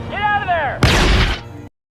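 A World War II tank cannon fires in a war film scene of a Hellcat tank against a Panzer. After a rising, wavering whine comes a loud, close, booming blast that rumbles for nearly a second before cutting to silence.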